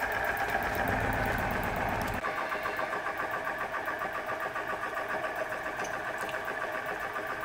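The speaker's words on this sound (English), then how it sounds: "Very, very, very, very smooth engine. Sounds absolutely beautiful." A small Stirling hot air engine, Huxtable design, runs on gas with a steady, smooth mechanical whir and faint rhythmic ticking, its low rumble easing after a couple of seconds.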